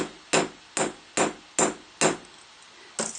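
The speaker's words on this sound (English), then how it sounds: "I'm going to flip around to the flat part of my chasing hammer" Six sharp strikes of the flat face of a chasing hammer on an aluminum rivet, evenly spaced at a steady rhythm, each a crisp tap with a quick decay, close and alone.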